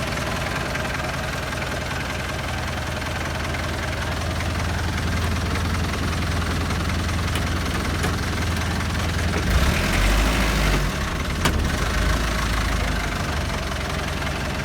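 An old, high-mileage pickup truck engine idles steadily and smoothly close by, a low continuous rumble with a faint rhythmic knock, swelling briefly louder toward the end.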